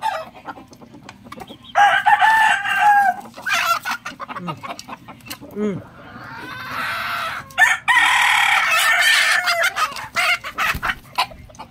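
Chickens cluck busily up close while a rooster crows twice, loud and drawn out, over a cluttered background of rustling and knocks.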